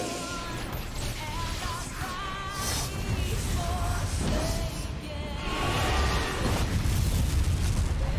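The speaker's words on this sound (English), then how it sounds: "Every single one of these tiny white lines is a huge explosion that's about to happen." Huge explosions tear through a Final Fantasy XIV cutscene as an enraged dragon attacks, a dense, continuous roar of deep rumbling booms with musical tones ringing over it, swelling louder toward the end.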